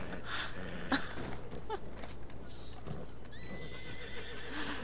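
A horse in Red Dead Redemption 2 gives a sharp whinny amid clip-clopping hooves, set against a busy in-game background over a few seconds.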